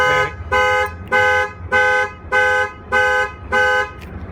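A loud Freightliner truck alarm blares in a steady rhythm, about seven evenly spaced honking blasts with short gaps between them.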